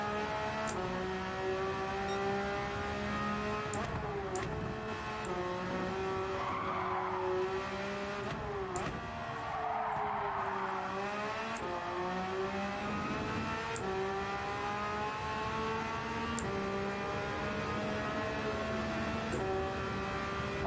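Race cars in Gran Turismo 7 droning steadily nearby, with engine tones sweeping up and down through gear changes and occasional tire squeal, continuous and fairly quiet with no talk.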